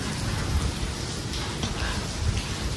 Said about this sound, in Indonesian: Dan ini hujannya makin kenceng ini,